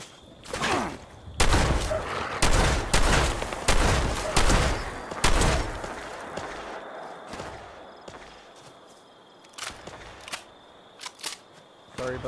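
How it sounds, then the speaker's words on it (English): Shotgun blasts from the game Fallout 76 come in a rapid series of loud, sharp bangs near the start, followed by quieter scattered shots and movement sounds. "take this guy out with a shotgun."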